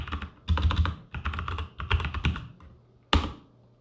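Keys on a computer keyboard clatter in several quick bursts of close typing, separated by brief pauses, ending with one sharp keystroke.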